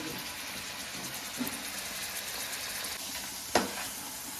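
Fish fries in hot oil with a constant dense sizzle and crackle, close and fairly loud, broken by a couple of brief sharp knocks near the middle and end.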